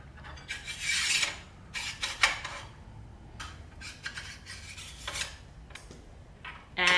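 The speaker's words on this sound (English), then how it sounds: "And all you have to do is slide it in behind the fence." Metal bars sliding into place behind a router table's outfeed fence, giving several rasping, scraping strokes in bursts with short pauses, close and fairly loud, ending in a sharper scrape.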